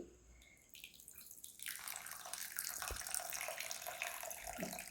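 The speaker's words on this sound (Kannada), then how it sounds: "ಇದನ್ನು ನಾನು ಒಂದೇ ಒಂದು ಸರಿ ನೀರು ಹಾಕ್ಬಿಟ್ಟು ಚೂರು ವಾಶ್ ಮಾಡ್ತೀನಿ" After a quiet moment, water starts pouring steadily into a bowl of rice, a close, continuous splashing rush that lasts to the end.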